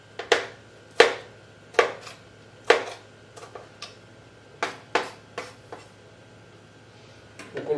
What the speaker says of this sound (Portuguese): Cortar o tomate pode ser grosseiramente assim.